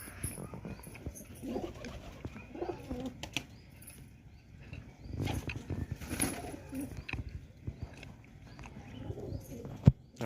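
Pigeons pecking at grain give soft scattered coos, with brief wing flaps and light scuffling in between, fairly quiet and close by, with no voices.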